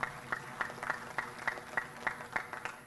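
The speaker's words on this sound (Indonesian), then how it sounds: "Tepuk tangan dulu." A crowd at a Maulid Nabi celebration in Makassar claps in a steady, rhythmic beat, about three claps per second, moderately loud and somewhat distant.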